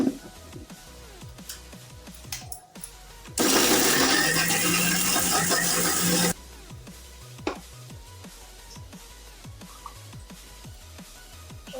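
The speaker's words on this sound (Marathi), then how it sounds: "आता आपण या पुऱ्या मिक्सरमधून ग्राइंड करणार आहोत." A kitchen mixer grinder whirs loudly for about three seconds while grinding broken fried puris for besan laddoos, with quieter clattering and handling noises before and after.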